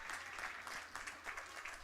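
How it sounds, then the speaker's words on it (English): Spectators applauding at the end of a youth squirt-level hockey game in a rink, a fairly faint, steady patter of clapping with soft swells, heard from a distance. "A nice round of applause here today."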